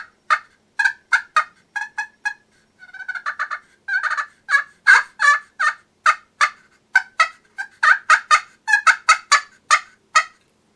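A handmade Talon turkey call fitted with a buck's antler base imitates turkey hen calls. Loud, close, rapid series of sharp yelps and clucks, in bursts with a quick rolling run in the middle, with no talking.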